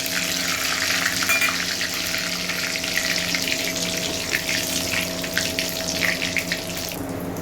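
Cinnamon, cloves, cardamom and black pepper fry in hot oil for a chili chicken recipe, a steady bright sizzle and crackle that runs unbroken and fairly loud, with no one talking.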